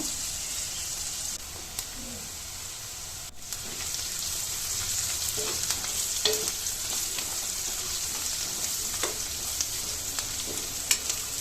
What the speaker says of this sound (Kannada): ಈರುಳ್ಳಿನೂ ಅಷ್ಟೇ ಕೆಂಪುಗಾಗೋವರೆಗೂ ಫ್ರೈ ಮಾಡ್ಕೋಬೇಕು